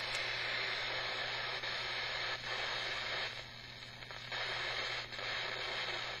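Steady broadband hiss of FM-band static from a QFX R-9BLK shortwave radio, a continuous loud rush with slight dips in level and no station or voice coming through.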